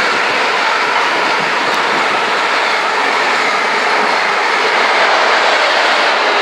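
Class 90 locomotive 90007 hauling a London Liverpool Street to Norwich train through Needham Market station, a loud continuous rushing roar of wheels and carriages passing close by throughout.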